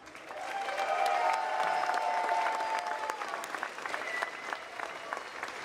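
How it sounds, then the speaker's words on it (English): A stadium crowd at a Formula Drift event in Seattle claps and cheers for Air Force volunteers, with sustained loud applause that swells and then slowly tapers, some whistles over it. "let's give them a round of applause"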